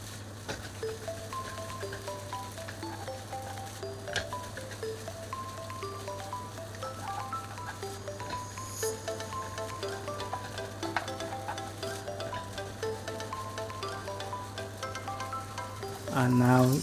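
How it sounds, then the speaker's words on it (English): Rice being stir-fried in a hot pan for Fujian fried rice, a steady close sizzle with scattered stirring scrapes and clinks running throughout, louder near the end. "So just give them a good fry and stir"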